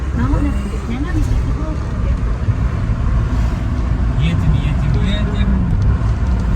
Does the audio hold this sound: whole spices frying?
no